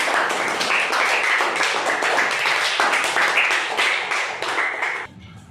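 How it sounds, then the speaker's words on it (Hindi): Applause for Vasiya, a contestant in a Kaun Banega Crorepati-style quiz game for kids: dense, steady clapping that holds evenly for about five seconds, then cuts off abruptly. "तो वासिया के लिए जोरदार तालियां"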